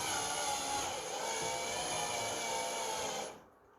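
A power drill whines steadily at high speed while driving a fastener for a DIY chalkboard hanger, sustained and close, then cuts off abruptly near the end.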